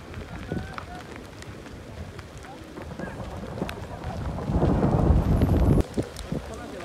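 Rain and hail pour down on a snowy cricket match in Leh, Ladakh, a steady broadband patter that swells louder toward the end, with people's voices mixed in.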